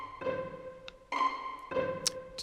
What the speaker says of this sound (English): I added this sort of pizzicato sound.